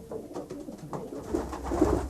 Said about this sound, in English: it's 2 magnetic points in the beak that guide a homing pigeon home, to George Wood